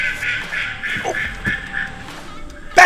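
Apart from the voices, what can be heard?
ducks quacking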